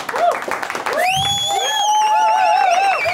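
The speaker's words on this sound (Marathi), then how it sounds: "सगळ्यांसाठी आपण टाळ्या वाजवल्या पाहिजे" Audience applause and cheering at a fourth anniversary celebration, a dense burst of clapping and shouts with a voice rising over it, filling the short moment at steady loudness.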